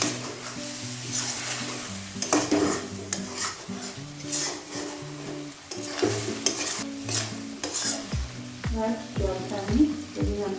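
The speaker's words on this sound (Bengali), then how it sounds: "এবার আমি একটু করে জল দিয়ে কষিয়ে দিচ্ছি" Mutton being stir-fried with water in a wok for Bengali kasha mangsho, with repeated scraping stirs of a spatula against the pan and a soft sizzle underneath, close and moderately loud.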